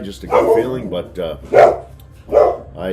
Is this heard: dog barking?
yes